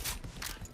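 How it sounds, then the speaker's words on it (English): Gun reloading in the video game StarRupture: a short burst of mechanical clicking and ratcheting, close and fairly quiet, with no talk over it. "Reloading."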